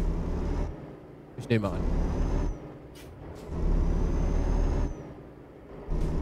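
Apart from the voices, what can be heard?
truck pulling away, air brake release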